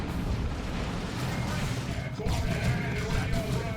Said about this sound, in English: Here's all these mines being shot up now.